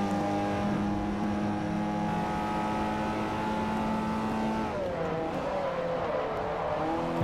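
A Mazda four-cylinder race car engine in Forza Motorsport 4 drones at steady high revs, then its pitch drops and slowly climbs again after a shift, heard alone and fairly quiet.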